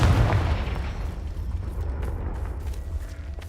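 A Confringo spell explosion in Hogwarts Legacy, a single deep boom at the start that rumbles and fades over a few seconds, loud and close.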